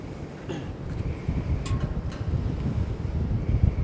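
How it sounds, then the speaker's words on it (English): Steady strong wind on a sunny day outdoors buffets the microphone with a constant low rumble and roar, with a few faint higher sounds in the background. "The sun is beautiful, but it is so windy."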